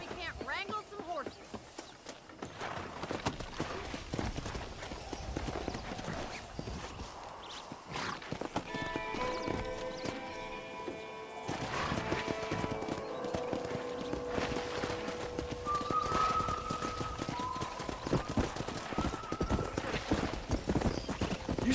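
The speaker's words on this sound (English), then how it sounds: "Let's see if we can't wrangle some horses." Horses from the video game Red Dead Redemption clip-clop steadily throughout, with occasional whinnies and neighs, alongside game music and voices speaking over the hooves.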